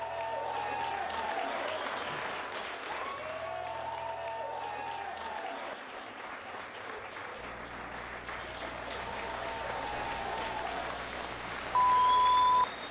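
A studio audience applauds a trio band taking its bow on a local television show, with steady clapping running throughout alongside lingering musical tones and a brief electronic beep near the end.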